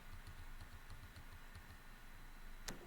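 Someone types a web address on a computer keyboard, a quick run of close, light key clicks followed by a single sharper tap near the end.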